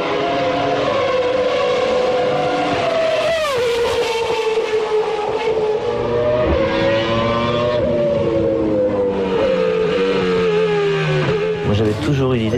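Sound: Renault Espace F1 ten-cylinder engine on the Mistral straight

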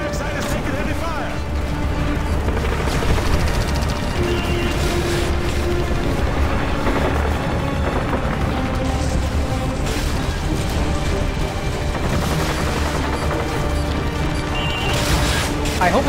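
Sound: heavy gunfire at evac site in Call of Duty: Modern Warfare 2 (video game)

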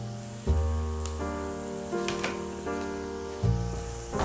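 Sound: garlic frying in a pan

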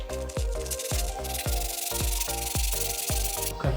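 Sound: sandpaper sanding a brake pad surface

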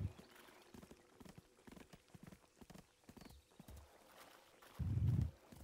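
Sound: horse hooves clip-clopping, from a video game

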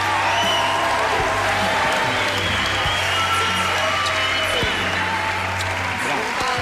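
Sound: audience applause

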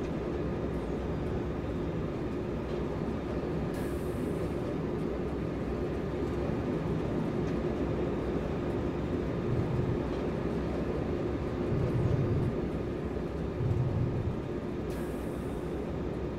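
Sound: Railjet train running in Train Simulator video game

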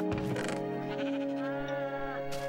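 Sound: sheep bleating in the video game Minecraft

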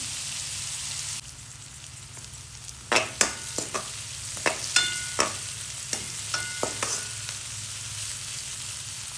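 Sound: onions sautéing in a pan

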